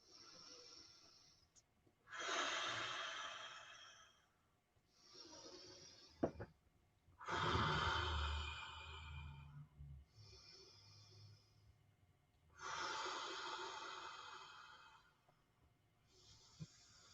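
Deep diaphragm breathing exercise: several long, loud breaths in and out with short pauses between, each a broad airy rush, some with a low rumbling edge, heard up close with no talking.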